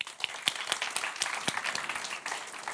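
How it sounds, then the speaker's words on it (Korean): A church congregation claps in welcome for new students at a Sunday service, a dense crowd applause of many hands with scattered sharper claps, steady and moderately loud throughout. "우리 신입생들 오늘 온 것 같은데 우리 환영의 박수 한번"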